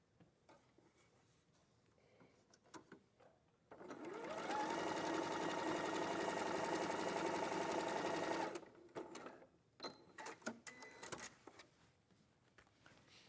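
A sewing machine chain-pieces half square triangles for a spring sampler quilt in one steady, loud, sustained run of about five seconds, framed by quiet handling clicks and rustles before and after.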